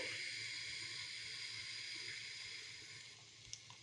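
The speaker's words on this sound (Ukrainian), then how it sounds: "Зараз вона вже ось пельмені закипіли." Pot of pelmeni dumplings boiling on a stove, giving a steady soft hiss and bubbling burble close by, with a faint clink near the end.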